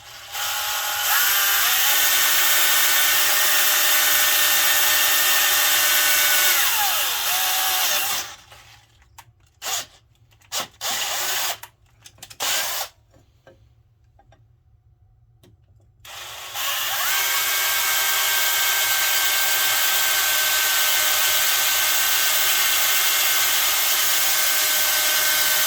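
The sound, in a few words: hand drill drilling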